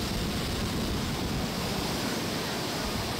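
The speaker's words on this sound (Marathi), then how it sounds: "सिंदफणा नदीला जे आहे ते महापूर आलेला पाहायला मिळतोय" The flooded Sindphana river in Beed district, swollen past the danger mark after heavy overnight rain, rushes past as a loud, broad, unbroken roar of churning water, close and constant with no voices.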